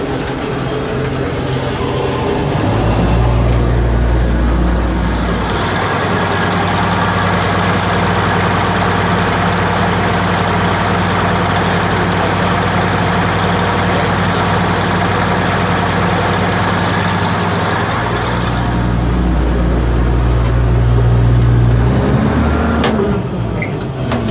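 A Bizon Z056 combine harvester engine runs loud and steady throughout, a deep droning rumble that rises slightly in the middle and eases near the end.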